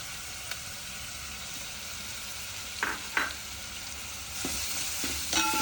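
Finely chopped onion sizzles steadily in hot oil in a pan over a medium flame for Maharashtrian dhaba-style masoor dal, with a few clinks and scrapes of stirring.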